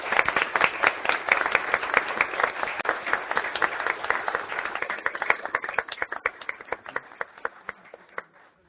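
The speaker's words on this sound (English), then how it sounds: "If you would please give them a round of applause." A room at a school board meeting bursts into steady clapping for a sports team, many hands close and loud, the applause thinning into scattered claps before fading out.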